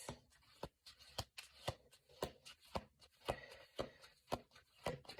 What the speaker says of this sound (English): I'm going to shuffle this